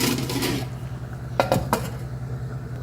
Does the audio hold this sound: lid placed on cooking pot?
yes